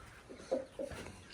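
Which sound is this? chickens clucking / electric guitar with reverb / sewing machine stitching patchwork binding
chickens clucking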